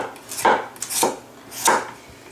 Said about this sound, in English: I'm just going to come in with the knife.